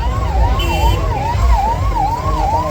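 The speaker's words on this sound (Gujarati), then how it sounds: "એમ્બ્યુલન્સ" A loud ambulance siren wails up and down in a steady repeating cycle, close by and continuous, at a fair in Bhavnagar.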